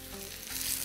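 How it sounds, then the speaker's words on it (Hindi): Chicken hash cakes fry in oil in a pan, giving off a soft, steady sizzle that stays fairly quiet and continuous through a brief moment. "थोड़ा सा तेल और डाल दीजिए ताकि वो दूसरी तरफ से भी अच्छे से पक जाए"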